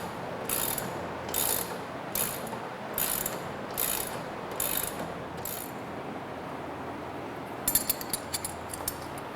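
A ratchet wrench clicks in a series of short, evenly spaced bursts while bolts are fastened through a camber plate on a 2015 BMW M3 during a suspension install, with a quicker, sharper run of clicks near the end.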